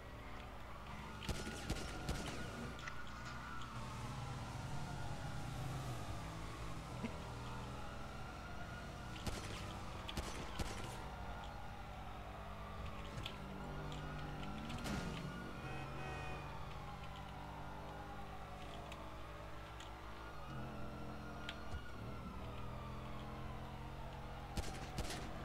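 Gunfire during a police chase in a GTA roleplay game, scattered sharp shots ringing out over wailing sirens and engine noise, with bursts recurring throughout the chase.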